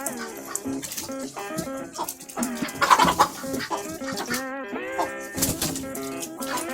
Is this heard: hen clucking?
yes